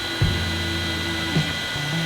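A 3D printer auto-homes, with stepper motors whining in short pitched tones and brief clunks over a constant fan hiss.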